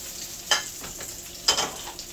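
Soft sizzling of an egg mixture in a pan with two sharper scraping clicks, close by, no voices.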